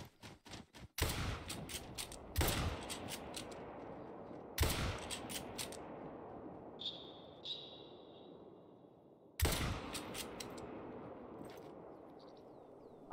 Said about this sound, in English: I sent a lot of bullets after that thing